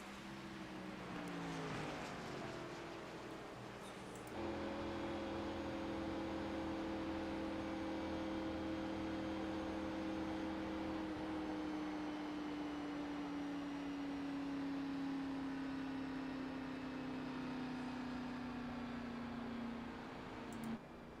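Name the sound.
race car engine and clutch in a racing video game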